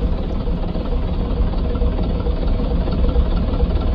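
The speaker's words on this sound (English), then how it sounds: "Why do you give this thing a different engine sound?" A video game vehicle engine idles with a steady low rumble, constant and even throughout with no revving or voices.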